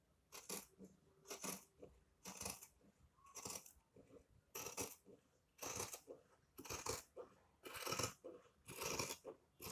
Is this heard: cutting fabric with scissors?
yes